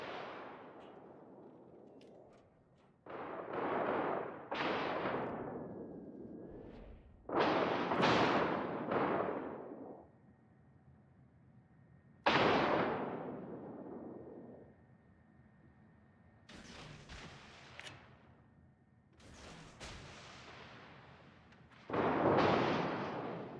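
Heavy naval guns boom from warships trading fire in the Destroyer Academy game, with several loud broad blasts spaced irregularly through the stretch, each decaying into a rumbling tail over a low steady engine-like drone.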